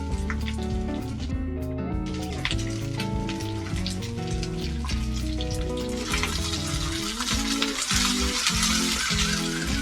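Sweet corn kernels fry in a pan, giving a continuous crackling sizzle with dense popping spatters, fairly close, alongside clinking utensil sounds and no talk.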